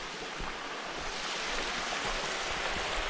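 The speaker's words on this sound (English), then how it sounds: "The water running over the rocks." A trailside stream on a hot afternoon, water rushing over rocks in a close, loud, steady broadband wash with no voices.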